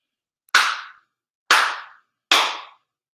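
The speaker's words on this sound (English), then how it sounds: "4 sincere claps" Three sharp, ringing hand claps at a Shinto ceremony, evenly spaced about a second apart in a quiet room, each with a brief decaying tail and no talk.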